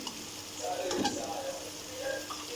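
Red chilli powder and turmeric sizzle and scrape as they are stirred in a hot frying pan, a soft crackling with a few clinks of the spoon.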